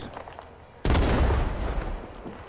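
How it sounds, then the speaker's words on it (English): Grenade explosion in the video game Rising Storm 2, a single sudden loud blast with a rumbling decay lasting over a second, preceded by quiet background game noise. "Nice nade, Calamity."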